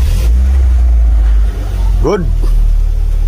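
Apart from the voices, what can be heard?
car engine starting after coolant bleeding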